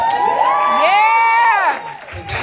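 A crowd at a Total Life Changes event cheers loudly, with piercing whoops and shrill high-pitched yells rising and falling for about two seconds before easing into a general murmur.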